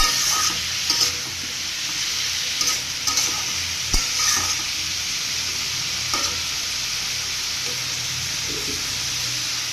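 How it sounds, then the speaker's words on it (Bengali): Cauliflower curry being stirred and mixed in a pan, with a steady sizzling fry throughout and repeated scraping spoon strokes against the metal, close and fairly loud. "এবারে এটাকে নাড়াচাড়া দিয়ে মিশিয়ে সে কপিটা বেশ ভালো হয়ে গেছে"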